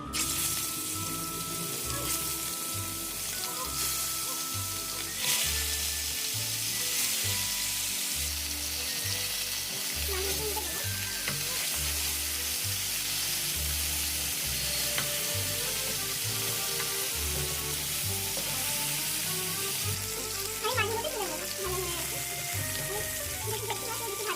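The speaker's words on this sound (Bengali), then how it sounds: "এবার মাছগুলোকে ভেজে নেব" Bhetki fish pieces fry in hot mustard oil in a kadai, giving a loud, continuous crackling sizzle with occasional spits and pops that carries on without a break for over twenty seconds.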